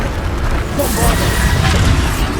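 The Bombarda spell goes off in the video game Hogwarts Legacy, a booming blast that swells after a short lead-in and fills the space with a loud, rumbling burst.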